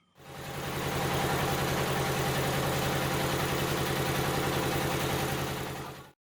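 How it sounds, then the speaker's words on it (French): The engine of a peanut oil pressing machine starts up and runs with a loud, steady rumbling drone and rapid low thumping, holding evenly for several seconds before cutting off. "Le grand vrombissement annonce que le moteur de la machine est lancé"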